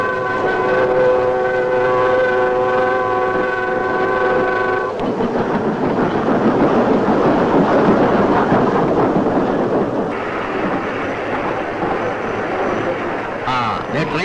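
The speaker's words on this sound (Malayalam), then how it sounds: "ട്രെയിൻ വന്നു." A train arrives at an Indian railway platform, first with a long sustained horn blast, then a loud, heavy rumbling roar of carriages rolling in, with people talking amid the noise.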